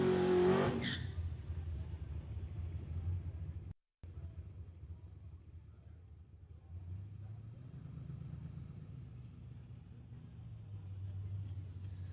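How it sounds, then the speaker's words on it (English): An orange Ford Mustang limited street drag car idles and rumbles after its burnout at a drag racing event, a loud steady engine drone with a brief cut partway and a rising rev later, over crowd noise. "So backing up from the burnout, Jason"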